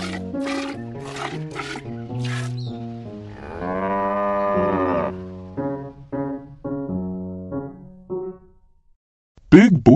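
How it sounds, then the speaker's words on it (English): Cow mooing: a series of short, clipped lowing moos in a rhythmic run, then one long drawn-out moo in the middle and more short moos after, close and loud, followed by a pause and a brief sharp burst. "Cow."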